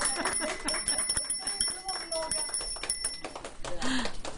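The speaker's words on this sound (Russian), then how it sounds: "замечательная есть традиция звонить в колокольчик" A small hand bell rings steadily to open an art exhibition, its bright, high tinkling running for several seconds beneath lively talking and clapping in an indoor gathering.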